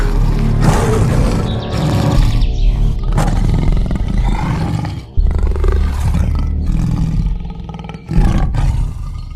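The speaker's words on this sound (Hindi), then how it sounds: "ठीक तभी गरजते हुए गुफा के अंदर से निकल आई एक बाघ" A tiger roars repeatedly from a cave, several loud, deep, rumbling roars in a row with short breaks between them and no talking.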